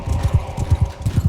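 Horse galloping in the video game Mount and Blade 2 Bannerlord, with quick rhythmic hoofbeats in paired clip-clop thuds, close and fairly loud across the short stretch.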